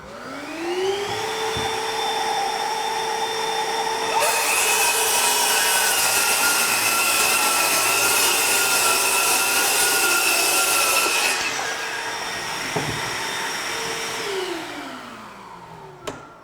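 Ryobi 18V ONE+ HP brushless 7-1/4 inch circular saw (PBLCS300B) with a dust hose attached, spinning up with a rising whine, then a long loud cut through wood lasting about seven seconds, followed by the motor winding down, close and without speech.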